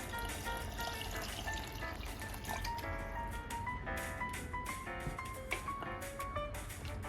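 Water pours steadily into a pot of mutton curry, with a gurgling, dripping tone that shifts in pitch as the pot fills, close and continuous.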